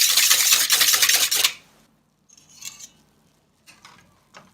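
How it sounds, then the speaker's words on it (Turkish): Liquids with two tablespoons of vegetable oil being stirred for gluten-free bread: a loud, steady rubbing scrape for about a second and a half, then stops, followed by a few faint, brief clinks and taps. No talking. "Sıvıların hepsini şu anda karıştırıyorum"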